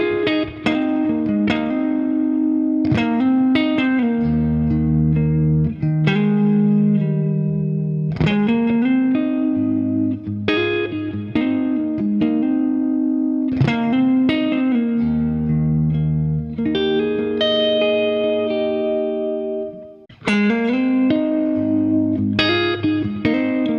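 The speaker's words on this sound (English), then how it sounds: "Now let's play a little neck pickup piece." A Gibson or Eastman electric guitar plays a short piece on the neck pickup, clean chords and picked notes in a rhythmic, repeating pattern with warm sustain and some reverb, loud and close with no talking.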